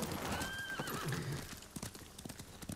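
A horse in the video game Ghost of Tsushima gives a clear, fairly close whinny, followed by a run of clip-clopping hooves, with no talking.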